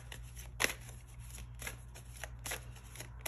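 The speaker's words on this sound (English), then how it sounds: "Just gonna shuffle them a bit like this, and I'm gonna cut them in three" A deck of cards is shuffled alone in a quiet room, a few quick riffling bursts and soft ruffles coming close and clear over a low steady hum.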